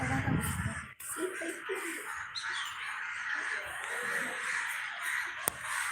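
Crows caw repeatedly against an outdoor background, harsh calls nearby with a faint rustle and distant ambient noise.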